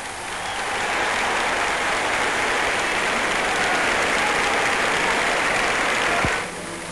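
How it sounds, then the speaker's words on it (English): Applause sweeps through an Olympic stadium as a marathon runner circles the track before the finish, a dense, sustained roar of clapping from a large crowd that cuts off abruptly near the end. "A burst of applause greets him in the stadium"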